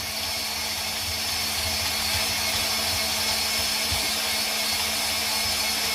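A vintage KitchenAid coffee grinder attachment grinds coffee beans with a steady, dense whirring roar that holds constant throughout, mixed with a faint gritty rattle of beans.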